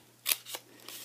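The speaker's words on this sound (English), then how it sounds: "I've already made my marks with my scissors and cut" Scissors snip through cardstock in two or three crisp close cuts within about a second, alone against a quiet room.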